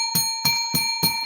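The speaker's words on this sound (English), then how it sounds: "Bell ring for Mofo." A bell rings four times at an even, quick pace, each strike bright and ringing with a lingering tone, clear and close with no talk.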